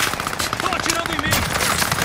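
Rapid automatic gunfire rattles continuously in a Call of Duty match, a dense burst of shots filling the whole moment with no clear pauses.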